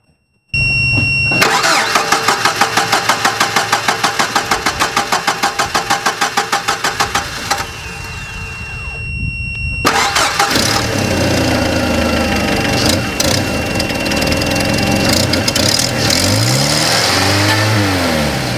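A Jeep engine cranks with a rapid rhythmic churn for several seconds while powered by a Foursun jump starter. After a brief pause it catches and fires, then settles into a loud, close running rumble with small revs. No one speaks.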